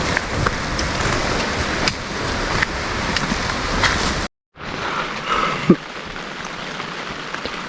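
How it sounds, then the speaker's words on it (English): Hard rain drums steadily on a tent during a thru-hike of the Colorado Trail, a dense continuous patter that breaks off briefly before resuming slightly softer. "It's raining quite hard outside."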